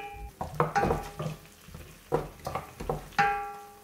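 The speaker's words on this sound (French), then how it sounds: "je vais faire sauter l'oignon ainsi que l'ail écrasé un petit peu dans cette huile" Onion and crushed garlic stirred in hot oil in a pan. Several distinct scrapes and metallic clinks of a utensil come over a faint background sizzle, close and fairly quiet.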